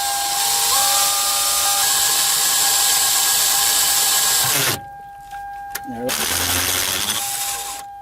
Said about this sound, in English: I'm gonna go ahead and see if I can drill it and put a pin.